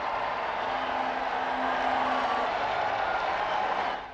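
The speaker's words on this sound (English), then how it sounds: "listen to the bells chime and the cheers from the crowd" A vast crowd in St. Peter's Square roars in a steady, distant wash of cheering, while a faint, sustained ringing of church bells is barely traceable underneath during the first half.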